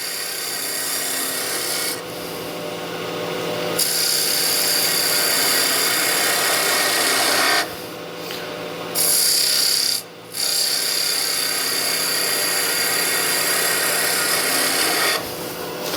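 A skew chisel makes a shoulder cut on wood spinning on a lathe: a loud, continuous rasping shear of the blade against the turning wood, broken by a few short pauses where the tool lifts off, with no talking.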